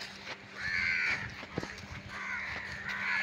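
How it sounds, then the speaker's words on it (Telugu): Crows caw outdoors along a roadside, a few drawn-out calls at moderate distance over low background noise and a faint hum. "ఇక్కడ ఉన్నాయి కాకులు పట్టుకొని తీసుకురావాలా ఇవి"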